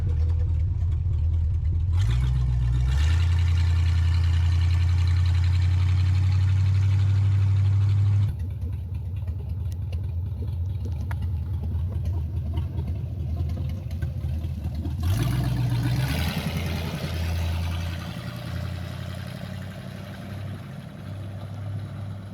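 A 1980 Camaro, driven for the first time in a decade, idles with a deep, loud rumble, then revs and pulls away, engine note rising and shifting through a few changes in pitch before settling into a steady drive.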